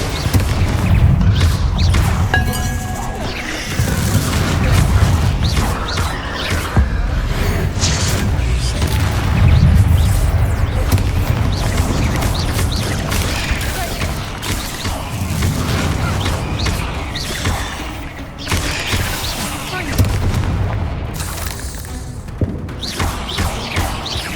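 In the game Hogwarts Legacy, Confringo fire spells explode in loud, repeated booms and thuds amid dense combat noise and mechanical clatter, sustained almost without a break.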